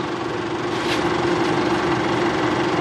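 An Isuzu D-Max engine idles close by with a steady, even hum and light mechanical vibration, unbroken and without talk.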